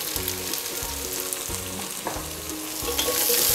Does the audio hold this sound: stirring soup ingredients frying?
yes